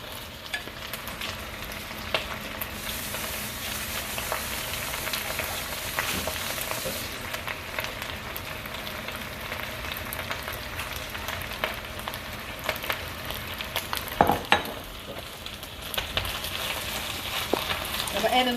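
Eggs fry in a pan with a steady, close sizzle and crackle running throughout, with occasional stirring scrapes and a sharper knock near the end.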